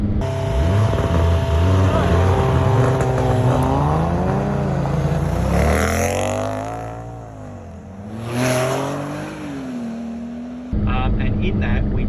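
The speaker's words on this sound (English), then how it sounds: "I drive sort of like the pace car, which is the 2 litre car." A 2-litre pace car drives a closed tarmac rally road at a national touge-style event, its engine droning loud and close with rising and falling revs and heavy wind buffeting.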